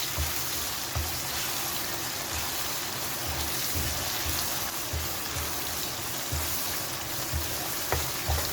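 Fried onions roasting with garam masala in a pan for a Kashmiri chicken curry give a steady, moderate sizzle, with soft rhythmic scraping or stirring thuds repeating underneath throughout.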